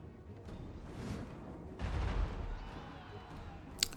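Troops open fire in the strategy video game Total War: Three Kingdoms, heard as a muffled, rumbling volley that swells and fades, distant and fairly quiet, with a sharp tick at the end.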